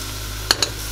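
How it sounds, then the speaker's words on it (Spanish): Two quick scraping stirs of onions frying in a pan, each a short bright scrape over a steady background sizzle. "Mezclamos, que no se nos queme la cebolla"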